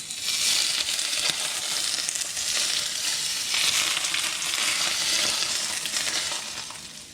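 Tilapia fries in hot oil with a loud, continuous crackling sizzle close by, rising and falling in waves with occasional small pops.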